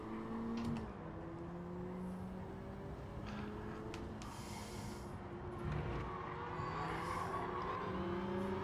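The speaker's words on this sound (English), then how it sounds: "I hear the whine of the SRT" Engine of an SRT car in a racing video game, a steady droning whine with shifting tones that holds at a constant level throughout, with a brief swell around the middle.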